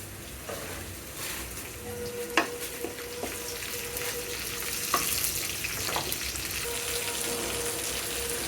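Chopped garlic, ginger and onion fry with bay leaves in a pan, a close continuous sizzle punctuated by several sharp clinks and scrapes of stirring.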